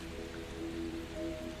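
Steady rain falls on a surface, a soft continuous patter with scattered droplets, faint and even throughout with no voices.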